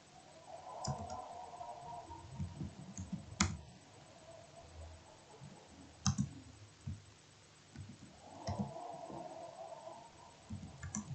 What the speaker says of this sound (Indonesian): setelah itu kita ketikkan perintah